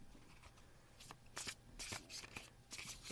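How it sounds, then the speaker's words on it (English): A deck of oracle cards being shuffled by hand, quiet close riffling bursts that come in several quick flurries with short pauses between them, alone without talk. "Get these shuffled up"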